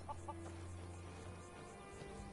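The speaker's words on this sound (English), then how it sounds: "I heard a chicken." Chicken clucking in the video game Skyrim, a few short soft clucks near the start over a low ambient hum, faint and without speech.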